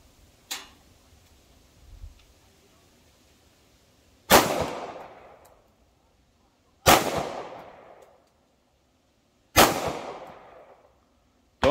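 Three loud, close 9mm pistol shots at a shooting range from 10 yards, each a sharp crack with a decaying echo, spaced a few seconds apart after a couple of quieter clicks.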